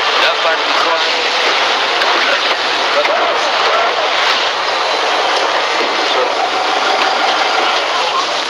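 A water taxi's boat engine drones loud and steady along a Venice canal, with a constant rushing roar of motor, wind and water and voices faintly talking beneath it.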